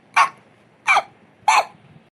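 Three sharp, evenly spaced hiccups from a cartoon character, each a short breathy burst heard alone in a quiet scene.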